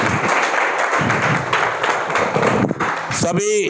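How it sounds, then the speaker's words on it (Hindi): Audience clapping at a drug de-addiction awareness event in Noida, a steady crowd applause filling the clip at close range, with a voice briefly audible near the end. "तो ताली बजा दीजिए यूनाइटेड नेशन के लिए"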